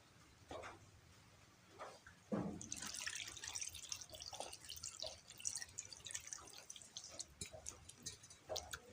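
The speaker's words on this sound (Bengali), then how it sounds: "এবার পানি দিয়ে দিই" Water is poured into a pan of seasoned fish and potato, a trickle of splashes and drips building over several seconds, with scattered clinks and faint background sounds.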